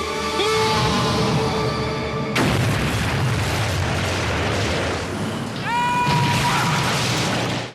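A movie laboratory blows up: a sudden loud boom cuts in, followed by a long rumbling roar of the blast that persists to the end, with brief tonal effects partway through.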